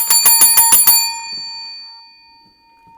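A notification bell sound effect rings as a quick series of about six bright, metallic bicycle-bell-like dings, then a long shimmering decay fades out alone, loud and close.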